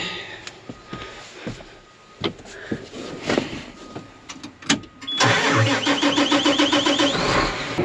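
Engine on a farm vehicle cranking and catching near the end, then settling into a steady close rumble after several seconds of clicks, knocks and handling noises.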